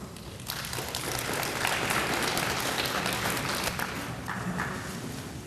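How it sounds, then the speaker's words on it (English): An indoor audience at a relay survivor dinner breaks into steady applause, a dense wash of many hands clapping for several seconds at moderate volume before fading slightly. "We didn't have a winner and y'all clapped"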